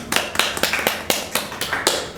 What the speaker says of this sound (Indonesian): Tepuk tangan dulu dong buat IPM.